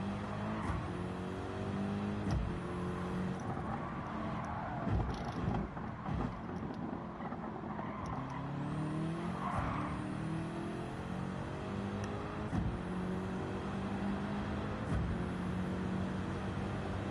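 A GT3 race car lapping Mount Panorama in Gran Turismo 7, its engine droning steadily throughout with rising and falling revs as it shifts through gears, loud and continuous with no talking.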